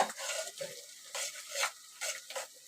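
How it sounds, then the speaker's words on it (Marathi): Browning onion being stirred in a pan for a quick bachelor-style chicken recipe, close scraping and rustling strokes in irregular bursts with a light sizzle and no talk. "चांगला ब्राऊन करून घ्यायचा कांदा इथे चांगला भाजलाय"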